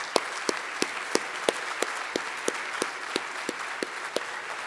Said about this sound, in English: And can we applaud you?